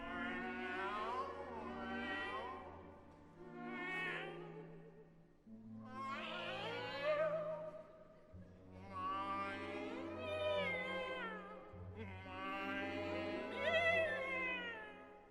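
Singers' voices imitate cats in the sung cat duet of Ravel's opera L'enfant et les sortilèges, trading long sliding meows and yowls in repeated phrases over sustained low orchestral notes.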